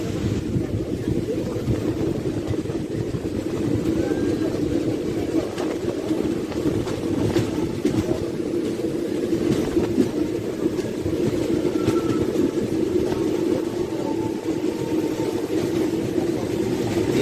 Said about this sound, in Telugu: ముందు నుంచి ఒక ట్రైన్ వెళ్తుంది